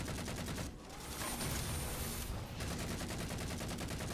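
Halo 4 video game gunfire rattles in a continuous rapid burst of automatic shots, steady and dense, at moderate loudness with no voices over it.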